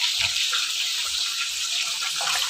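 Water pours in a steady, continuous stream into a pan of masala mixed with onion while a raw fish besara dish cooks. The pour is close and even for a few seconds, with no voices.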